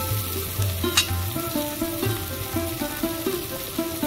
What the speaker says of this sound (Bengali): রসুন দিয়ে আমি ভালো করে ভেজে নিয়েছি